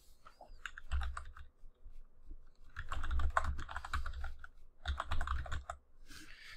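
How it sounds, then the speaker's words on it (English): Keys clatter on a computer keyboard in uneven bursts of rapid typing with short pauses between, close and moderately quiet, no voices. "Can I type this out?"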